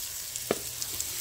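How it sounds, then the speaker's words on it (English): Ground cardamom, cinnamon and coriander sizzle softly as they are stirred in a hot pot for kabsa, with a faint steady frying hiss and one brief clink of the spoon. "And kind of stir this around, let it get aromatic, yummy smelling."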